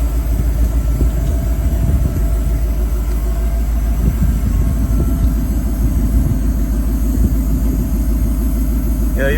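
A motorcycle engine holds a steady 1300 RPM, a loud, close and unbroken mechanical drone with a fine, even pulsing texture and no revving.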